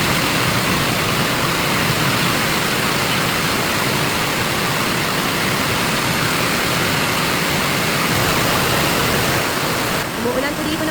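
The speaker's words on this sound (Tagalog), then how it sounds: "Umuulan po dito ng malakas sa amin." Heavy rain pours down at a home in the Philippines, a loud, continuous broadband hiss and roar that holds unbroken throughout.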